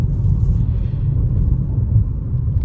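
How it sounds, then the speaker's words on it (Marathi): Inside a car driving on petrol, a steady low engine and road rumble drones on without a break, with no voices. "आता पेट्रोलवर चाललेली आपली गाडी"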